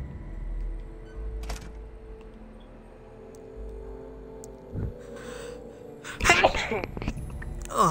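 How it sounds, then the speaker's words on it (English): A single close sneeze bursts out sharply near the end, after quiet stretches of low rumbling game audio, with a brief tail of breath afterward. "Had a sneeze there."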